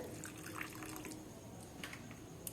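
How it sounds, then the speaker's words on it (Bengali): Water poured into a bowl of figs in a home kitchen before they are boiled for a curry: a steady, soft splashing trickle that runs throughout, fairly faint, with no voices. "এবার বাটির মধ্যে জল দিয়ে আমি এটাকে ভালো করে"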